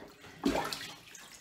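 Water trickles and gurgles slowly down a blocked kitchen drain, a brief soft swell of dribbling and bubbling that fades back into a quiet murmur.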